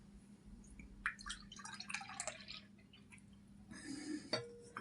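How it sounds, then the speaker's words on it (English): Tea poured into a cup, faint trickling and dripping with a light clink of crockery, quiet and close against a low background hum. "I'm going to pour a cup of tea while you choose your deck"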